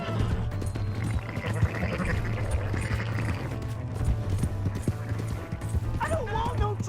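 Horse hooves clopping in Red Dead Redemption 2, a steady, busy rhythm of hoofbeats running under continuous shouting voices and game noise, with a dog-like yelp or whinny near the end.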